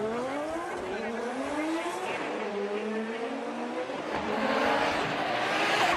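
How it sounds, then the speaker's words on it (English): Formula Drift Japan cars scream at high revs with rising and falling engine tones and tire squeal as they initiate slides, heard from a distance under a commentator's voice. "Kaneda, big correction there at outside zone 1 area. And right after that, switch back, full tire off, but Yamashita burning through his tires and gapping"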